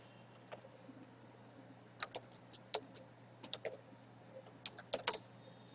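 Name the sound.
computer keyboard typing code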